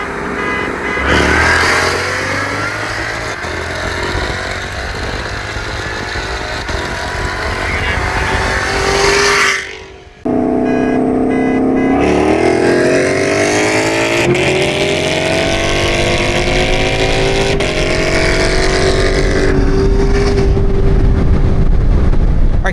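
Supercharged Chevrolet Camaro ZL1 accelerating hard, a loud, close engine roar rising in pitch through the gears, with a brief cut at a shift before climbing again steadily to the end.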